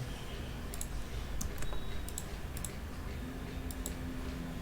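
Quiet clusters of keyboard clicks while HTML attributes are typed on a computer, short bursts of keystrokes over a low steady hum, with no talking.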